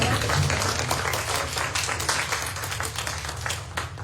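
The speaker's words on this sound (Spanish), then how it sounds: "Un aplauso para los compañeros." Audience applause at a panel on the living conditions of agricultural day laborers, steady dense clapping that holds for about four seconds and fades slightly at the end, with no one speaking.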